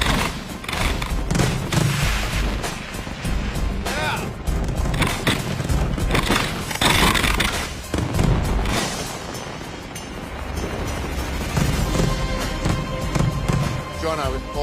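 Barge-launched fireworks in Istanbul, beginning with a big 8-inch shell, a dense run of booms and crackling bursts that carries on throughout, with people talking over the display.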